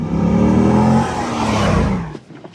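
A 1998 Chevrolet Corvette with 24,805 miles pulls away, its engine loud and close as it revs and accelerates through rising gears before easing off.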